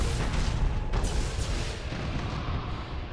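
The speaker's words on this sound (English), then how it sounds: "that barrage that just came from the big side batteries" Cannon barrage from a warship's big side batteries in the space combat game Battlefleet Gothic: Armada, a steady rumbling roll of heavy booms that keeps going with no pause.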